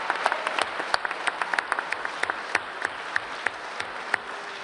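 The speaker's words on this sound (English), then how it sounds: "you were getting a good round of applause" Delegates at the Labour Conference 2025 give a sustained round of applause, with dense clapping and a few sharp individual claps standing out.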